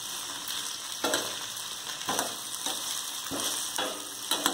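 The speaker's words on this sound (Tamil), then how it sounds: "இது கொஞ்ச நாள் கொஞ்சம் எண்ணெயை கொட்டிட்டு இதை நல்லா சுருளை வதக்கிக்கணும்." Okra (ladies finger) frying in oil with turmeric, a steady broadband sizzle with a few louder crackling bursts and stirring scrapes, close and continuous with no voices.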